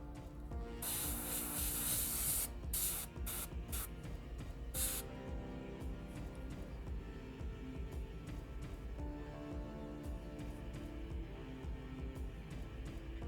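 Primer sprays from a rattle can onto a miniature figure in several short hissing bursts, the strongest early on, then quieter background hiss and faint handling noise.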